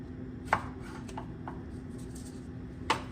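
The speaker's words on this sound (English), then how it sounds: "So first you slice the ends off." A knife slicing the ends off a plantain, probably on a cutting board: two crisp, close cuts about two seconds apart, with faint handling noise between them.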